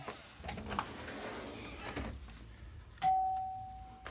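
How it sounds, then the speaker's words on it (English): A single electronic doorbell chime rings out clearly, a sustained bright tone that fades slowly, following some rustling and handling noise. "that's your doorbell, and the doorbell's working."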